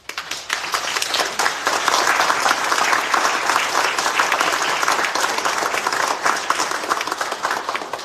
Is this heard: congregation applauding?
yes